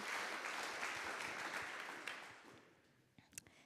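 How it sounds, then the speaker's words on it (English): Faint audience applause in a plenary hall at an urban-planning conference in Vienna, tapering off over a few seconds before a few soft, scattered sounds. "Let's give them a round of applause."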